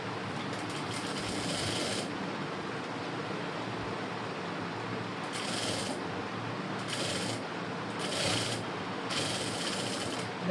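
Sewing machine stitching the curve of a blouse sleeve at a slow pace: faint, even mechanical whirring comes in several separate runs with short pauses between them.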